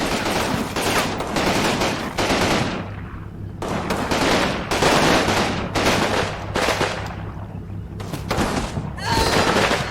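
Bursts of Bren light machine gun fire in the Combat Mission World War II strategy game, loud, rattling volleys separated by short pauses, repeated several times with booming thuds.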